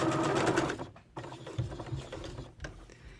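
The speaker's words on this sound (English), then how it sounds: "we are going to stitch across this last corner. Back and forth and back and forth." Sewing machine stitching back and forth across the corner of a homemade fabric mask with elastic, a close, loud mechanical whir that breaks off into short bursts and clicks as the stitching reverses.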